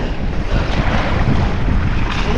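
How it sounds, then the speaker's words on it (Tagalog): Strong sea waves and gusting wind on open water during a fishing trip off Cavite, a dense, continuous roar of surf and wind buffeting close to the microphone, with no talking. "Sobrang lakas ang alon eh, no?"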